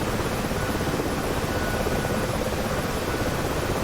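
A helicopter's rotor and engine churn in the DCS flight simulator during a 1982 Falklands War re-enactment: a steady, dense broadband roar that holds without a break, with no talking.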